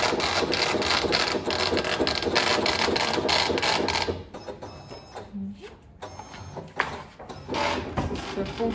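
A braille embosser at a school for blind children printing pages in braille, giving a loud, dense rattling and rapid mechanical hammering for about four seconds, then quieter intermittent clicks and shuffling.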